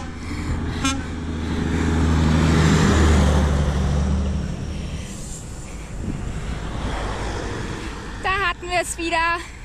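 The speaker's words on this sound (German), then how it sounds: "Und so wird man hier die ganze Zeit begrüßt. Mit Hupen und Winken." A motor vehicle roars past cyclists on a road in Albania and sounds a short horn toot in greeting. Traffic noise swells and fades, and voices speak near the end.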